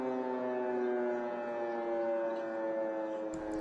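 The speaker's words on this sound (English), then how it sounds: "as we hear these sirens going off in the capital" Air raid sirens wail across central Kyiv, a steady sustained tone heard from a distance, fairly faint and alone with no voices.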